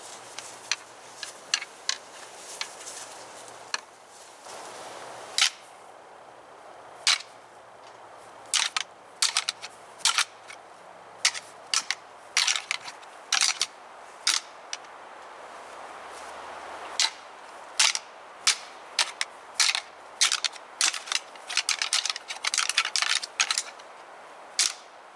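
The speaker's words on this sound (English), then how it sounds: "We're going to do a rattling sequence." Deer antlers clashed and ground together in a bow-hunting rattling sequence on public land in fall, a run of sharp, irregular clicks and clacks coming in bursts, close and fairly loud over a quiet outdoor background, with no talk.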